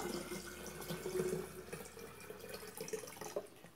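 Water runs into a juice dispenser jar, a fairly quiet, steady pour of moderate level lasting a few seconds with small splashy variations, with no talk over it.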